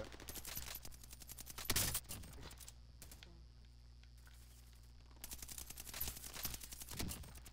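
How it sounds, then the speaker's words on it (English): Rapid automatic gunfire in Call of Duty Warzone, during the Godzilla versus King Kong season, comes in dense crackling bursts, then a quiet gap, then another long burst, loud and close. "Oh, I'm getting shot at."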